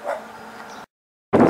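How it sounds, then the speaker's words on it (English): A single dog bark, then a brief silence before another sharp bark begins, close and loud. "Protecting the yard, barking at my bike."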